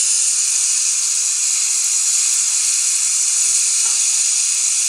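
Shrimp go into frying spices for a shrimp and spinach dish, and a loud, constant, high hiss sizzles evenly throughout the whole stretch with no voices.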